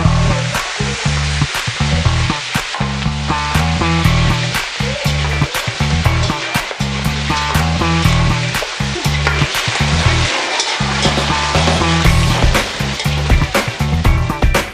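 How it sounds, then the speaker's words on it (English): Duck meat sautés in fully heated oil in a pan, giving a loud, continuous sizzle broken by frequent scraping and clattering stirs, with no voices. "When the oil is fully heated, put back the meat in the pan and saute it."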